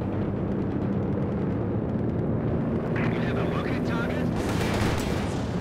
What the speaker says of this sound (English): Yep, from the Werfer barrage.